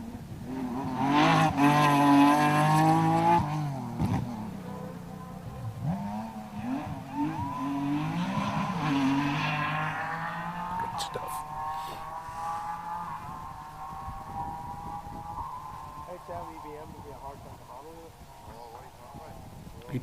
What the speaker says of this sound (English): Some people saying that cars like this are going to be the future of slightly modified rallying